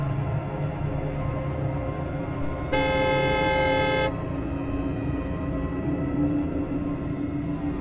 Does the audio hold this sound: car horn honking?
yes